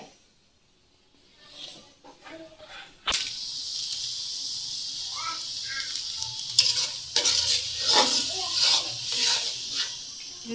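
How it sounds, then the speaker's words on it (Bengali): Roast spice mix stirred and fried in a pan in a home kitchen, a loud steady sizzle starting abruptly and running on with scraping stir strokes, with faint voices in the background. "রোস্টের মশলা দেওয়া হলো, দিয়ে মশলাগুলো ভালো করে কষাতে হবে।"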